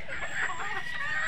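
Chickens clucking at a farmyard, a steady mix of soft clucks and chatter continuing throughout at close range, with no other sounds standing out.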